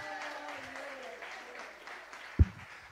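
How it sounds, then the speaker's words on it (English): A church congregation claps and cheers in a distant, diffuse wash beneath a preacher's voice, with one sharp thump near the end. "Come on, clap your hands, somebody"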